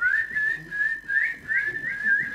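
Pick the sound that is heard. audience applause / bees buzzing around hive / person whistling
person whistling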